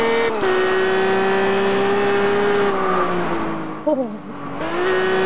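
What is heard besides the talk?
cars accelerating in a drag race, from video game Test Drive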